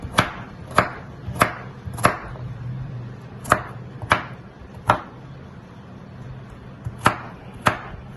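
A knife finely chops ingredients for a crispy chicken kabab, making crisp, evenly spaced thuds on a board, about a dozen strokes at a steady rhythm over a faint low hum.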